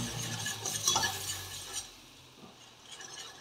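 Butter and cornstarch stirred together in a pot with a spoon, giving a soft scraping swish with light sizzling, louder in the first second and fading after, with no talk.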